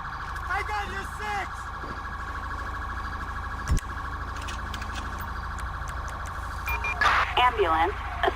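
Ambulance siren in a video game cutscene, a continuous electronic wail running throughout, with voices and a sharp knock over it.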